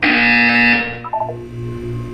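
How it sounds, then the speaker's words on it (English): In a Portal 2 test chamber, a harsh electronic buzzer blares close and loud for under a second, followed by a few brief stepped tones and a low droning hum. "When you hear the buzzer, look down at the floor."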